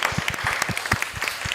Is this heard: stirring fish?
no